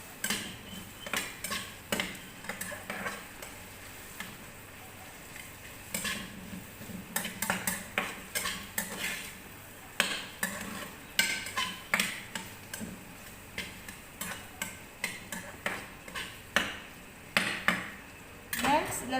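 Sardines and egg cooking in a pan at home, with soft, irregular clinks and scrapes of a utensil against the pan repeating throughout, faint and close, over a quiet background.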